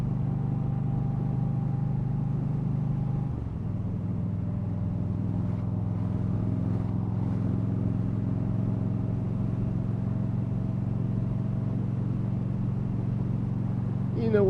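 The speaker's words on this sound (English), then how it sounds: "I get to hear my exhaust." A car's exhaust drones low and steady while driving through a tunnel, a continuous rumble with a faint whine over it and no breaks.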